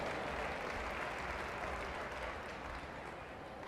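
A home crowd at a gymnastics World Cup in Anadia, Portugal, applauds German gymnast Valdemar Eichhorn, a fairly quiet, distant, steady patter of clapping across the arena with no voices on top.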